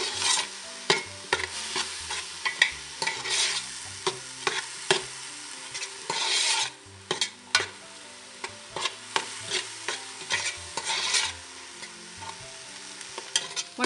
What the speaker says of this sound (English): You need to gently fry the onions.